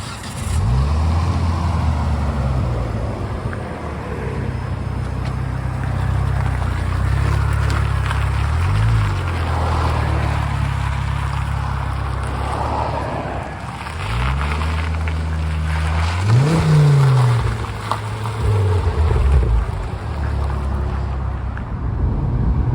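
Ex-police Ford FG XR6 with a five-speed automatic heard from inside while driving, a steady engine drone with road and wind noise, the revs rising and falling through gear changes, loudest near the end.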